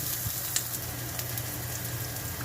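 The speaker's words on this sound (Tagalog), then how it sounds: "igisa natin ang bawang. Kasunod ang sibuyas." Garlic, onion and boiled beef tenderloin sizzle steadily in a hot pan, a close, even hiss of frying with a few faint clicks of stirring and no talk.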